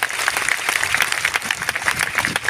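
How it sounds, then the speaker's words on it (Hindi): An audience at a large indoor event in Samastipur applauds steadily, a dense and even wash of many hands clapping at moderate loudness for a couple of seconds, with no voices over it. "अविनाश जी के लिए भी जोरदार तालियां होनी चाहिए।"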